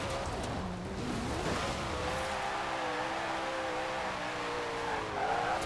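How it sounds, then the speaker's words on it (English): A Koenigsegg in Forza Horizon 4 spins its wheels in fourth gear, its engine holding a loud, steady high drone with tire squeal and a slight rise in pitch throughout. "Look at it in fourth gear, just wheel spins for days"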